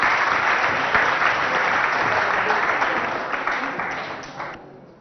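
An audience at a school competition gives a student dense, steady applause that sustains for several seconds before fading out.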